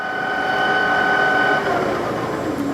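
CNC manual flat bed lathe, a 2008 18 x 40 Trak two-axis model, with its spindle running in low range on a two-speed headstock: a steady mechanical whine with constant tonal hum, fairly loud and close, no speech.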